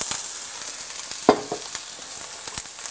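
A small handful of onion cooking in melted butter in a pan gives a soft, quiet sizzle with a few brief stirring clicks, heard alone without talk.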